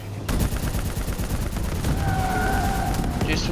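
Sustained gunfire in the video game Call of Duty Black Ops 3, dense rapid bursts over a constant battle din, with game music and voices underneath throughout.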